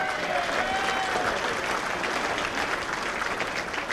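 Steady applause fills a banquet hall at an old-timers baseball dinner, a dense, even wash of clapping from a room full of guests, loud and continuous with no talk over it.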